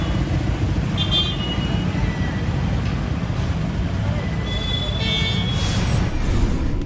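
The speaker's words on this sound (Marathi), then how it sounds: "चाकणमध्ये अंतर्गत रस्त्यांवर उभ्या करण्यात येत असलेल्या वाहनांमुळे वाहतूक कोंडी होते" Dense roadway rumble fills a traffic jam at Mahatma Phule junction in Chakan, clogged by parked vehicles, with car horns tooting briefly near the start and again toward the end over the constant engine drone.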